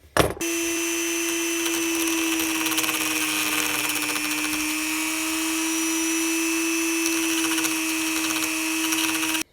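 A steady, loud whine of a small rotary grinding tool runs almost unbroken for several seconds while a Sig Romeo Zero red dot mount is fitted on a Springfield Hellcat OSP pistol, after a brief knock at the start.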